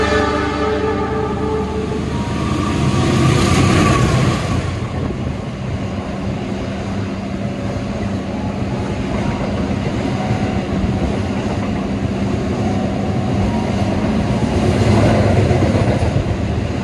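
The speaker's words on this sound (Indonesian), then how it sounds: "Kereta api Argo Bromo Anggrek sudah melintas langsung di stasiun Pekalongan" Argo Bromo Anggrek express train rushing through Pekalongan station without stopping, a loud, sustained roar of wheels and carriages close by with a horn blast near the start.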